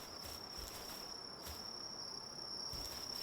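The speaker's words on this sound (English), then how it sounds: "Don't you love the cicada noises?" Steady, high insect buzzing from cicadas in the Palworld video game, a thin continuous drone with faint rhythmic pulses that stays level, heard alone without talk.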